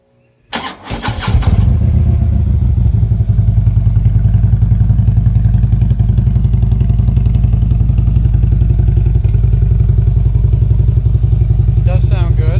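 A Harley-Davidson Street Glide CVO with stock exhaust cold-starts with a thump, then settles into a loud, steady, close low-pitched idle rumble that runs without pause.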